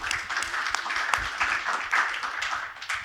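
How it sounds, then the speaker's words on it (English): An audience at a community panel discussion claps together in an uneven, moderately loud round of applause, individual claps standing out as the sound rises and dips. "Round of applause"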